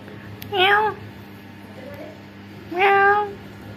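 An orange cat meows twice at a home, two clear, close, rising-then-falling calls about two seconds apart over quiet background hum.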